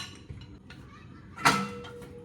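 A sharp metallic clink of cookware around the middle, with some light rattling before it and a soft thud afterward, heard close up in a quiet kitchen.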